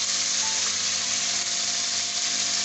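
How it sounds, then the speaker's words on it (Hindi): Chicken pieces frying in a karahi, a continuous steady sizzle heard close and even, with no talking over it. "ये चिकन को हमारे 10 से 15 मिनट हो गए भूनते हुए"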